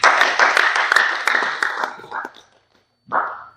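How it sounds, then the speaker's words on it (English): Applause from an audience honoring a survivor at a presentation, dense clapping for about two seconds that thins and fades, followed by a brief separate burst of sound. "A round of applause to Jane Francis,"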